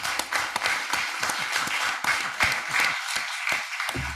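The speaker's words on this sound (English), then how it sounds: "How about a round of applause for this team?" Council meeting audience clapping for a junior all-star baseball team, loose individual claps close by forming a moderate round of applause that thins toward the end.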